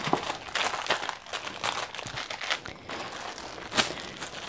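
A plastic bag full of beads crinkles and rustles close up, with a run of soft irregular crunches and one sharper crackle near the end, no voices.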